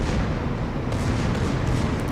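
Secondary battery guns on a warship in World of Warships fire in a dense, continuous rumble of booms, loud and close, with no pauses across the whole stretch.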